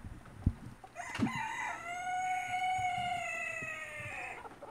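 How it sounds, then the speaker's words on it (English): A rooster crows once among the morning chickens outdoors, a long drawn-out cock-a-doodle-doo that rises and holds, after a few soft clucks and scratching noises nearby. "This is the morning chickens."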